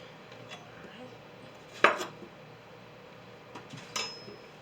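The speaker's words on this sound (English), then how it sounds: "When you chop, put your fingers like that, your thumb back, so you don't chop your fingers." A knife chops through pumpkin on a cutting board: a few sharp, close cuts at uneven intervals, one much louder than the rest, over a quiet room with no talking.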